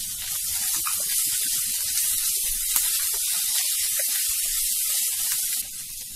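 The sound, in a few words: ginger pieces and curry leaves frying in hot oil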